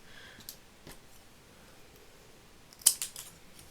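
Scissors snipping the tip off a wooden toothpick for a Christmas popsicle-stick craft, a few faint clicks followed by one sharp, close cut.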